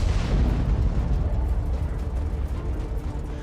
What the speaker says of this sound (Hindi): सुरंग में एक्सप्लोजिव लगाए जाते हैं और इसके बाद उसे धमाके में उड़ा दिया जाता है।